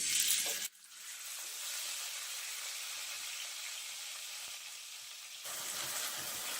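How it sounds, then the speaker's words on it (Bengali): Onion paste drops into hot oil and bursts into a loud, steady sizzle that holds unbroken for several seconds, then shifts slightly toward the end as the pan is disturbed. "তেলটা গরম হয়ে গেছে, এখন আমি পেঁয়াজ বাটাটা দিয়ে দিচ্ছি।"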